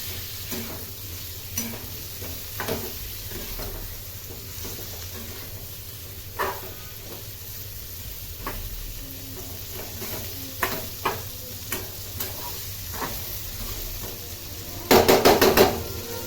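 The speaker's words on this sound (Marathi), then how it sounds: "आपण परतून घ्यायचे तेलामध्ये" Bitter gourd (karela) pieces sautéing in hot oil give a steady sizzle, with scattered spoon-and-pan clacks throughout and a louder clatter near the end.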